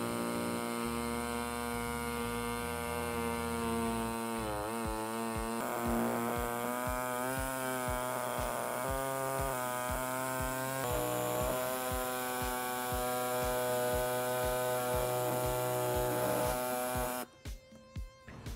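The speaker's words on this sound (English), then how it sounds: "we'll be using the air saw to make the cut." A pneumatic air saw trimming the plastic rear bumper of a 2017 Hyundai Elantra, a loud, steady high-pitched buzzing drone with rapid reciprocating pulses, shifting slightly in pitch as it cuts and cutting off abruptly near the end.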